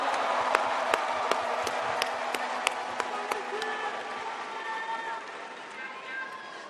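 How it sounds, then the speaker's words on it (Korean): Delegates at a Democratic Party convention in Korea give a fading round of applause, with scattered sharp claps standing out early before the sound thins into a murmuring hall as a voice carries over it. "다시 한번 큰 박수 부탁드립니다"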